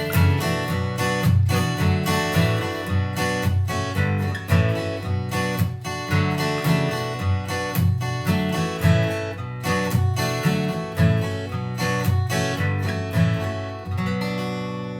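Acoustic guitar strummed through the chords of a song, with steady, rhythmic strokes, close and full, and regular percussive accents across the passage.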